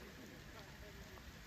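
Heavy rain falling in Balangi Park, Nayagarh, a dense, even hiss of drops on surfaces filling the whole clip, soft and constant with no breaks.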